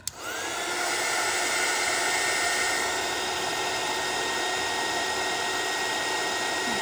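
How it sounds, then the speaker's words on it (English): A heat gun blows a steady, loud whooshing hiss as it dries blood-splatter craft paint. The sound starts with a click and runs unbroken with no talking. "we're gonna get my heat gun out while I have it plugged in from doing embossing the other day"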